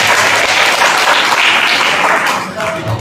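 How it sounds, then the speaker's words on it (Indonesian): Audience at a school character-building event for a junior high in Indonesia applauds loudly and steadily for about three seconds, the dense clapping easing slightly near the end. "Tepuk tangan untuk kita semua."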